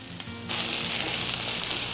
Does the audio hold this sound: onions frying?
yes